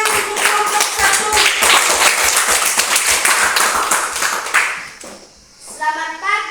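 Classroom students clap in a lively, uneven burst for a group coming up to present, loud and close, ending abruptly and followed by a voice speaking.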